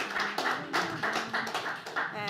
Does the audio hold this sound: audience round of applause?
yes